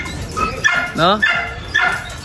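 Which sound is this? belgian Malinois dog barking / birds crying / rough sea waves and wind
belgian Malinois dog barking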